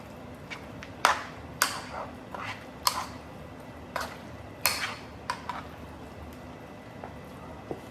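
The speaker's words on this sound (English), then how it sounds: "let me start mixing it up while I scrape on my pot" A spoon stirs and scrapes goat, beef and chicken curry in a pot, giving scattered clinks and scrapes of metal at an uneven pace over a soft background, close by and with no speech.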